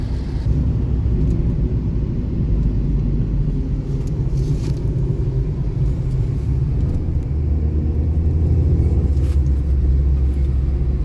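A car on a highway in rain on a road trip from Pune to Hampi, heard from inside as a steady loud low rumble of engine and road noise, with faint hiss above and no talk.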